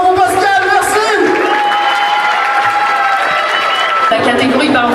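An audience at a sports awards ceremony in Avallon claps and cheers for an honoree, steady dense applause with whoops, close and loud throughout, easing near the end.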